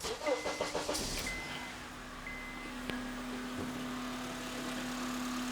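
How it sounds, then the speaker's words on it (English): An engine cranks with a quick series of rhythmic chugs, then catches and settles into a steady idle hum. "We're going to go ahead and crank this engine over."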